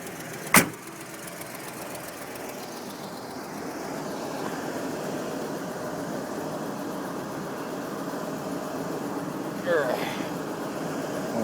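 A 1982 Cadillac hearse with a 368 engine runs steadily at idle, a continuous low rumble with a sharp click near the start and a brief rise near the end.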